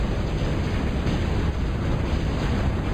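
A command center blows up in a real-time strategy video game match, a dense, loud roaring blast with rumbling explosion noise sustained for a few seconds, with no talk over it.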